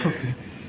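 A single short cough, close and fairly soft, fading quickly into quiet room tone during an Indonesian mukbang of fruits and vegetables.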